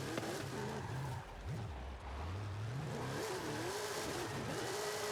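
A Ford Mustang Spec 5 RTR drift build in Forza Horizon 5 runs through warm-up figure eights. Its engine revs continuously and loudly, rising and falling as the throttle is worked, with tire noise underneath and no voices.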